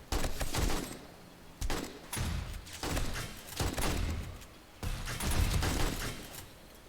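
An automated turret in the game 7 Days to Die, alpha 18, fires in several long bursts of rapid gunfire with short pauses between them, heavy and rumbling throughout.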